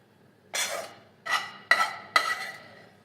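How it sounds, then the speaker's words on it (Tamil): Sweet potato fry scraped from a pan into a vessel in four distinct metallic scrapes and knocks, each with a short rattling tail, close and fairly quiet. "ரெடி ஆயிடுச்சுங்க இறக்கிடலாம் ஒரு பாத்திரத்தில் நம்ம ட்ரான்ஸ்ஃபர் பண்ணி வச்சிடலாம்"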